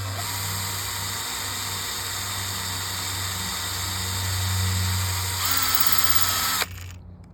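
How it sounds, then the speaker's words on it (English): A small power drill whines steadily for several seconds, rising slightly in pitch before cutting off abruptly near the end. "So what I'm doing is just slowly drill in, and I'm trying to come out diagonally."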